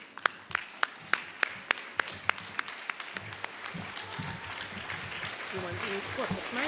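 At a school gathering for a visiting UN ambassador, a few sharp, evenly spaced single claps ring out first, then a standing audience joins in and the clapping swells into fuller, denser applause.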